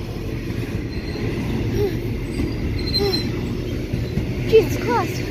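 A Fox intermodal freight train passes at speed, a loud continuous rumble of wheels on rails with squeals and rattles, close by, while people talk.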